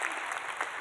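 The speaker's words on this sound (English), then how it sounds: "Let's clap for her" Short burst of audience applause at a nursing research talk, a dense patter of many hands clapping steadily throughout the brief moment with no pause.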